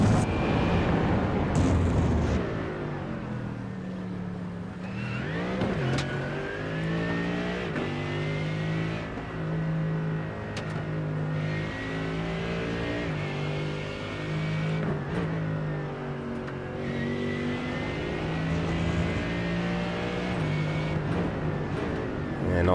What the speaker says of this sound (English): that Mercedes has got a strange engine on it